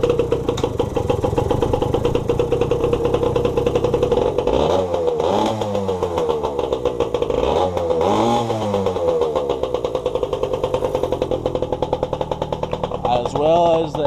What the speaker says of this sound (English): so I'll start this bike for you also.